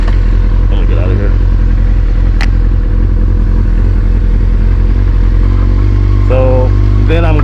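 A carbureted motorcycle engine idles after a cold start at just above 1,000 RPM, a loud, steady, close rumble with light mechanical clatter, and brief faint voices under it near the end.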